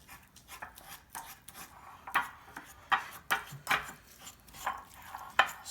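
Fork breaking up a tuna cake mixture in a bowl, giving a string of soft, irregular taps and scrapes, fairly faint and close.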